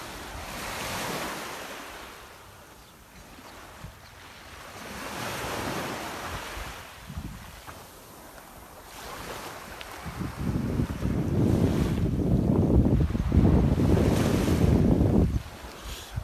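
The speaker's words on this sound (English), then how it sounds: "As you go down that line where the tide comes in and the tide comes out twice every day, you know that you're in a magical place." Waves wash onto the beach at Jaywick while steady wind buffets the microphone, the surf swelling and fading and then building into a louder, sustained roar near the end.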